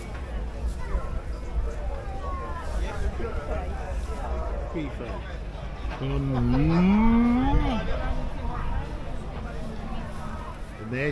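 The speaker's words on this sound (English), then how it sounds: "here we have what people in Suffolk would call an old cow" Old cattle at the Hadleigh agricultural show in Suffolk let out a long, loud, drawn-out moo at close range, with a crowd chatting in the background and outdoor show noise all around.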